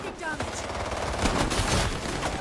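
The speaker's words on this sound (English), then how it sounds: "I died to the SMG" Rapid SMG fire crackles continuously in a video game, a steady dense burst of shots that stays loud throughout with faint background game noise.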